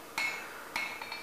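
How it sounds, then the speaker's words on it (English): A blacksmith's wide-faced hammer strikes a steel bar on an anvil with three sharp, ringing metallic blows: a loud hit, a second loud hit, then a lighter tap. "I'm using my wide-faced hammer."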